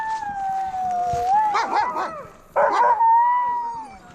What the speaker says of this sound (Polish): Już widać zaprzęgi. No i zobaczcie, są sanie, pieski.